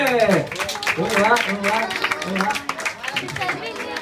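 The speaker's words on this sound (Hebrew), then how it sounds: "כפיים, חבר'ה!" A crowd of children at a camp meeting applauds, with clapping mixed with excited voices and chatter throughout.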